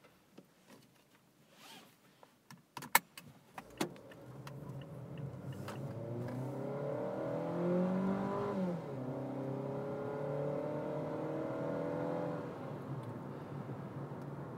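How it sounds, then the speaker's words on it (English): A few clicks and clunks, then a 2012 Mazda 2 Neo engine cranks and starts with a key twist, its tone rising as it revs and holds a steady, fairly loud drone. "Nothing difficult to turn this car on. It's a simple key in,"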